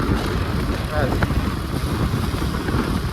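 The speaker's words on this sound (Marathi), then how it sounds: "नक्की ऐकली इंजिनचा आवाज आहे, कसा आवाज आहे" A KTM Duke 250 motorcycle engine runs with a loud, steady, close-up drone while a person talks over it.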